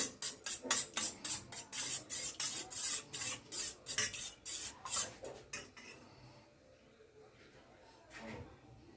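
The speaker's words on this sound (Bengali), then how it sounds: "এবার ডিমটা ফেটিয়ে নিচ্ছি" Eggs being beaten in a bowl for chicken fingers, a quick regular run of utensil clicks against the bowl that stops after about six seconds, followed by quieter handling.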